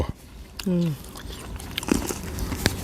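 A large fresh jujube dipped in chili salt gets bitten into, giving a few crisp crunches close to the mic, with a voice sounding briefly just before.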